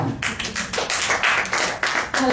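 A church congregation claps their hands for God at a service in Surabaya, a brisk run of sharp, uneven claps repeating steadily and filling the room.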